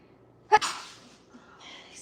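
A single sharp, close sneeze bursts out while someone cooks spicy Chinese five-colour pepper chili oil, followed by a faint breath and quiet kitchen hiss.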